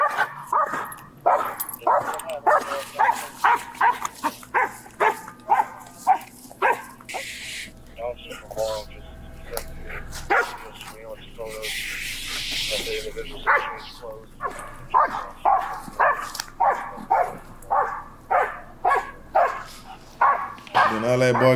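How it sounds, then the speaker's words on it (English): Police canine units bark repeatedly in a residential neighborhood during a suspect search, loud rhythmic barks and yips with some whimpering, broken by a short stretch of noise midway, while voices talk over them. "Doing all that barking ain't bit nobody yet."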